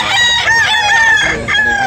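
A gamecock rooster crows loudly and close, a long wavering cock-a-doodle-doo call filling the clip with no other sound around it.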